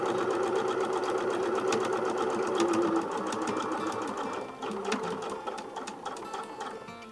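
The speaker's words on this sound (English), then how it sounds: "And then we literally stitch." Sewing machine stitching a quilt block of small butterfly pieces, a steady fast mechanical whir with rapid needle ticking close by, slowing slightly toward the end.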